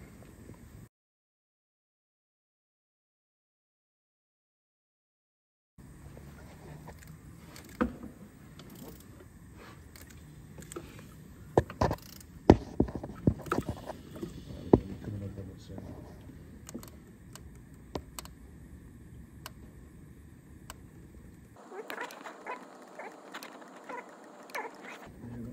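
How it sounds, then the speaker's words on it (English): A ratchet clicks and clunks as it turns over the crankshaft of a 2012 VW Tiguan 2.0 TDI diesel engine during a timing belt and water pump job, with scattered metallic ticks and creaks, close and intermittent. "we've just turned that over with the ratchet down the bottom there"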